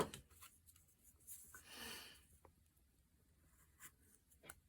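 A knife pares wood by hand, pushing a face into a stop cut while carving a mountain man figure; one longer scraping cut stands out amid soft, close scratchy strokes, with no talking.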